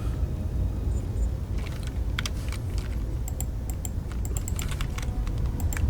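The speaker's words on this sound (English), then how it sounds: "Right, I'm tapping through the number keys." Number keys on a computer keyboard are tapped while playing the Space Engineers 2 PC game, light irregular clicks in short bursts over a steady low background rumble, with no speech.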